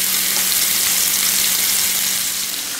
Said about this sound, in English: So now it's time to add them to the pan and brown them on both sides.